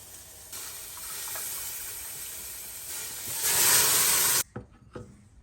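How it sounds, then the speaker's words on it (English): Vegetable broth pours into a hot soup pot with a loud continuous hissing rush that swells near the end of the pour, then cuts off, leaving a few small clinks and bubbles. "You add 4 cups of vegetable broth."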